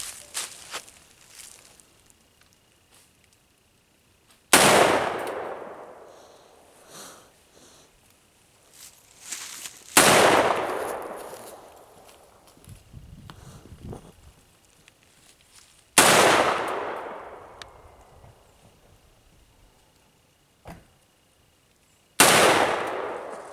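Single gunshots from a shouldered gun ring out one at a time, four sharp loud cracks spaced several seconds apart, each with a long decaying echo, with faint shuffling between shots.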